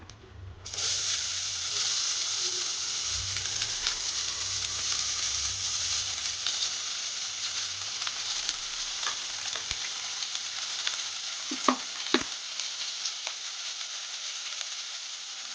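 Onions fry in a hot pan with a steady, close sizzle that holds for the whole stretch, broken late by a few sharp scrapes and knocks of stirring.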